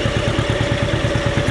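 Old John Deere B tractor with a slightly smoking engine, freshly rebuilt rings not yet broken in, running at a steady two-cylinder putt-putt rhythm, loud and close with no talking.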